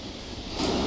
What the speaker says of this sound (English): Listening to the sound of the ocean is it's very powerful, strong undertow, very dangerous.